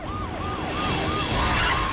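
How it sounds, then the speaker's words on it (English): A police siren wails in a rapid, repeating rise-and-fall pattern, steady and fairly loud over road noise. "When the officer hits her lights and siren,"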